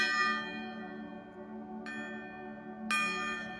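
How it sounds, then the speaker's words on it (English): A gong struck during an energy-clearing ritual rings out in a long, shimmering tone that slowly fades, then is struck twice more with quieter, sharp strikes that ring on. "So I'm going to gong out"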